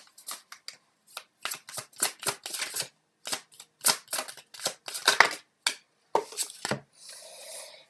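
Tarot cards being shuffled by hand at close range, a run of quick papery riffles and slaps in irregular bursts, ending with a brief softer hiss, with no talking.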